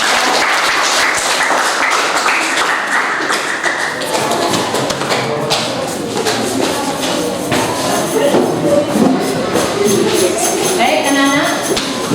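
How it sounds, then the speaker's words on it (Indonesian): A class applauds with dense, continuous clapping mixed with taps and thumps, while voices talk over it throughout. "Ya, kita beri aplaus."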